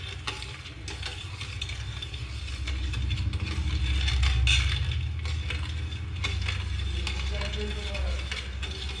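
A khoa mixture for gulab jamun is stirred in a pan, giving soft continuous scraping and bubbling over a steady low rumble, with no clear speech.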